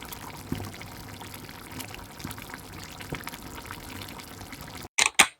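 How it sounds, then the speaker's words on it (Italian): Water poured into a cooking pot for spaghetti, a steady close splashing stream running for several seconds before breaking off, with a couple of short loud bursts at the very end. "Adesso ho appena messo su una pentola d'acqua, mettere giù gli spaghetti"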